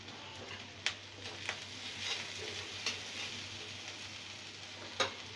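Garlic, onion and chili powder masala frying in a pan for a spiced potato curry, a faint steady sizzle with a few sharp spoon clicks against the pan.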